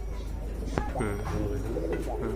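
Domestic pigeons kept for sale give soft, throaty coos close by, rising and falling in a few rolling phrases over a steady background hum, with a voice briefly audible.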